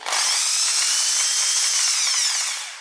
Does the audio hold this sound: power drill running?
yes